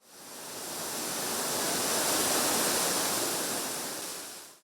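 Rushing water at Düden Waterfall in Antalya, a steady broadband roar that swells in and fades out, loud and continuous with no voices.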